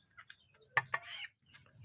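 A chicken clucks softly nearby in a few short, scattered calls over faint background noise.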